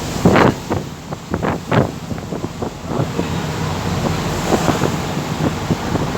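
Onboard a Starlight passenger ferry heading to Manila, with steady wind buffeting the microphone and a broad wash of water and engine noise. Several sharp thumps and knocks stand out over the continuous rumble.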